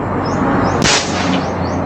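Rifle fired once at a 25 meter target, a single sharp, loud report near the middle, set against a constant outdoor background with faint bird-like chirps.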